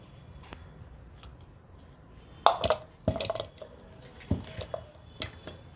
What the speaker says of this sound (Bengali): নারকোল তিল পেস্ট করে আমি এবার একটা বোলের মধ্যে ঢেলে নিচ্ছি